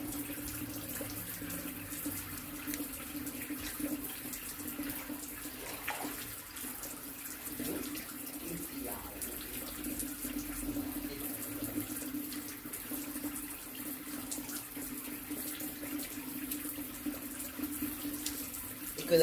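Water filling a water mat straight from the tap with no pump, a steady, continuous rush of running water throughout with a low hum beneath it.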